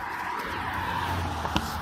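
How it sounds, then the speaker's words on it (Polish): A car rolling past on a country road near Barcice, a steady low engine and tire roar that fills the whole moment at moderate loudness, with no talking. "samochód"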